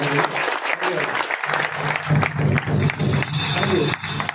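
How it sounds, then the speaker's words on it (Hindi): Applause from a crowd at a motivational gathering, a loud burst of clapping with some cheering and voices mixed in, pulsing unevenly through about four seconds. "एक बार जोरदार तालियां बजाएंगे।"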